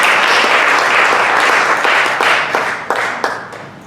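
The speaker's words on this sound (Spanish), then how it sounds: "Dale un aplauso a Dios, ponte de pie en el altar" A church congregation claps loudly and close in a dense round of applause that thins out toward the end, with a faint voice underneath.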